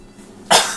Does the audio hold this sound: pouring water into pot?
no